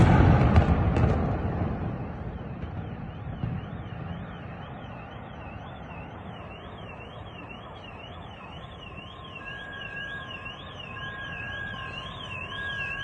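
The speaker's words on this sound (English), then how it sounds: "That's all car alarms going off from the shockwaves." Distant car alarms in Ukraine, set off by an explosion's shockwave, wail with a rapid warbling tone, a second alarm joining later, over low rumbling background noise after an initial loud burst.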